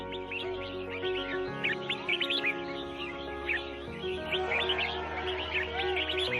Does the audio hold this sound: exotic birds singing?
yes